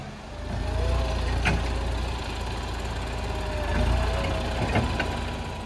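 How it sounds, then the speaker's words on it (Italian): A tractor pulling a trailer climbs a rough, steep mountain road toward an alpine pasture, its diesel engine chugging steadily nearby in low gear with a faint knocking rhythm. "Trattore che arriva con la biga."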